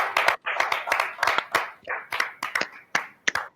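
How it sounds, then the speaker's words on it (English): Scattered, uneven hand claps pop out over a steady bed of voices, as a small group applauds the Jammu contest winner during an online award event. "Round of applause."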